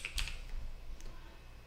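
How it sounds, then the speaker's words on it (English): A few keystrokes on a computer keyboard, sparse clicks early on and one later, soft and close over a low background rumble. "Now you want to go to your keyboard and type in Edge."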